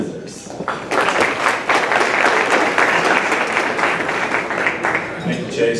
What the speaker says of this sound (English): let's give one more round of applause for our visitors